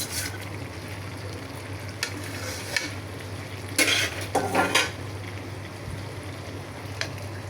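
Pabda fish drops into a pan of red spinach curry, setting off a louder sizzling burst over a steady low frying hiss, with faint stirring and utensil clinks nearby.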